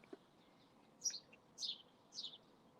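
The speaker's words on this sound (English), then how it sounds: "listen to the birds" Three faint, high bird chirps come at an even pace over a soft outdoor background hiss in the early morning, distant and unhurried.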